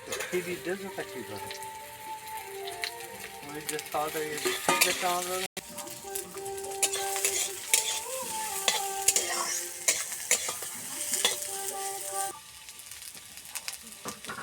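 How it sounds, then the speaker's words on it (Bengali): Onions frying and being stirred in hot oil while cooking beetroot fry and chicken with potatoes, with a steady sizzle, repeated spoon scrapes and clinks against the pan, and brief faint voice in places. "তেল গরম হয়ে গেছে, পেঁয়াজ দিয়ে দিচ্ছি।"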